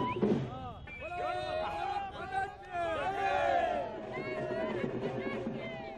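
Crowd gathered outside a temple, a steady babble of many voices with shouts rising and falling, close and continuous throughout, with people talking over the din.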